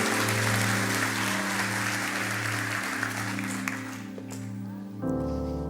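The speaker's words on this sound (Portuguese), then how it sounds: "Dê o melhor aplauso da sua vida, Senhor." A church congregation applauds during an evening Portuguese-language service, sustained clapping close and loud that thins near the end as a low musical drone continues underneath.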